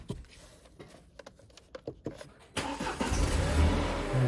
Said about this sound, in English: Now I'm just gonna get that car started,